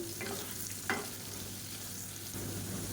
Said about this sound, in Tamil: இப்போ இது வந்து கொஞ்சம் நல்லா ரோஸ்ட் ஆகட்டும் உருளைக்கிழங்கு